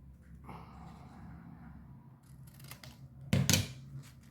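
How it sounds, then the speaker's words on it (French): Scissors cut through tartan fabric, snipping into a curved hollow; a few soft snips lead to one loud, close double cut near the end, with no talking. "Et là, je vais couper pour aller dans le creux."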